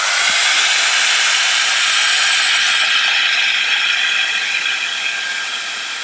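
A heat tool warms wet embossing glaze on a craft piece, making a loud, steady, close-up whirring hiss that fades slightly toward the end, with no talking.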